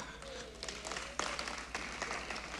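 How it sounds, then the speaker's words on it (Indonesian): Scattered, faint clapping from only a handful of people in a church, a few soft, uneven hand strikes over a low hum of room noise. "Ternyata yang tepuk tangan baru 5 orang ini."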